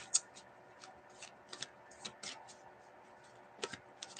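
Tarot cards are shuffled by hand at a table in a quiet room, a run of soft, irregular riffling flicks and taps close up, with a few sharper snaps among them.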